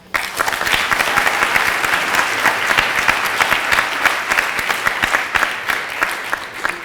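An audience at a French national debate final breaks into loud, steady applause, many hands clapping densely and evenly from start to finish with no speech over it.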